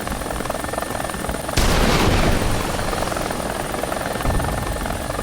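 Helicopter in War Thunder, a dense, continuous rotor and engine roar that jumps louder and closer partway through, then holds steady and loud to the end.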